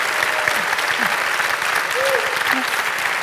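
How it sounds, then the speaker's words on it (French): Steady audience applause for a finalist at a children's eloquence contest, dense and continuous from start to finish, with brief voices and a few tonal sounds over the clapping. "Prenez les applaudissements, Cyrine."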